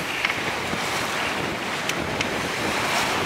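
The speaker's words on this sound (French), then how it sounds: "La mer s'est adoucie un peu aussi." Open-ocean swell in the South Atlantic trade winds washes steadily against a sailboat close to the deck, a constant broad rush of water and wind buffeting with no voices.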